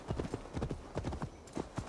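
Horse hooves from Assassin's Creed Valhalla, the mount slowing on a small hill: steady, rhythmic clip-clop hoofbeats, close and fairly loud, repeating evenly throughout.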